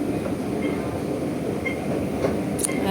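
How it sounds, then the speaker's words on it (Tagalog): Metro train pulling in at a station platform bound for Admiralty, a loud steady rumble of wheels and motors with faint squeals and clatter, no talk. "Oh, sakto, nandito na yung train."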